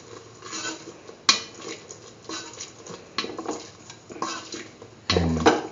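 Green tomato coconut dip mixture is stirred in a metal pan, giving repeated close scraping and clinking of a spoon against the pan in uneven strokes, with a louder clatter near the end and no talking.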